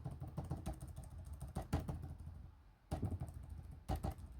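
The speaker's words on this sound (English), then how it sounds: "The WASD keys, they're a bit more mushy, not as clicky as you can hear." Rapid tapping on the keys of an ASUS TUF gaming laptop, soft and muffled clicks in quick bursts with a short pause, close up over a faint background hum.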